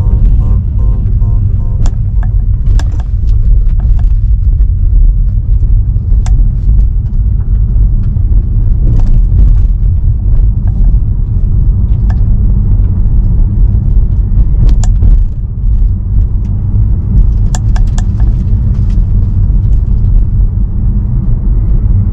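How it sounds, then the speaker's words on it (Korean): A loud, constant rumble of tires on a rough construction-zone road fills the cabin of a Tesla Model 3 without soundproofing, and small stones click and tick sharply against the car throughout. "돌이 굴러가는 소리 잘 들리시나요?"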